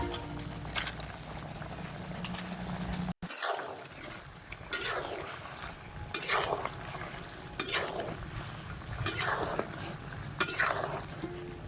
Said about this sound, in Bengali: এখন আমি সমস্ত ভাজা পাঁপড় দিয়ে দেবো